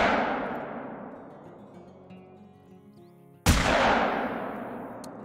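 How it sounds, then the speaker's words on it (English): A shotgun slug fired in the hunting game theHunter, one sharp loud blast with a long fading tail, standing alone after a decaying earlier report. "we will go ahead and fire a slug at one of these level 3s"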